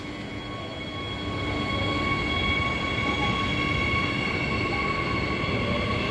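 An A series electric train passes a station platform at Clarkson in Perth, a steady loud rumble of wheels on rails with a sustained electric whine building then holding, close by and without talking.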